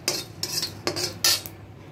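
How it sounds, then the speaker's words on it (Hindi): Coriander seeds, fennel and cumin dry-roast in a pan for potato patties, heard as a few crisp metallic scrapes and clinks of a spoon on the pan, close and fairly loud. "धनिया, सौंफ, जीरा, ये सभी को हम भून लेंगे"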